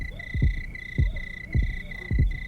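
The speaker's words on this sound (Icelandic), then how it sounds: "Ég heyri þeirra hjarta slær." Heartbeat sound effect pulsing in a steady lub-dub rhythm, four deep throbs over a constant high electronic hum, fairly close and prominent.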